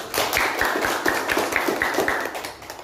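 An audience applauds a divisional manager at a company promotion event, with steady clapping running throughout and slowly fading toward the end.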